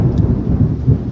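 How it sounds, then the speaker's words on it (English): Thunderstorm outdoors in a city, with a steady low rumble of thunder and rain rolling continuously, loud and close, swelling in a few broad surges with no voices. "Are you enjoying my thunderstorm out here?"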